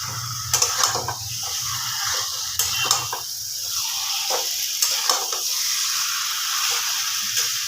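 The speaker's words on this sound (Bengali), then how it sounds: "ভালো করে কষবো" Chicken kosha with ghee and sugar sizzles steadily in a pan while a spatula stirs and scrapes, giving scattered sharp clicks over a continuous frying hiss.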